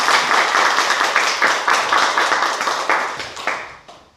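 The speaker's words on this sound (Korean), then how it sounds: "늘 승리하시라고 박수 한번 해주시기 바랍니다" Church congregation clapping together during a Sunday morning worship service, a loud, steady burst of applause with rhythmic pulses that tapers off after about four seconds.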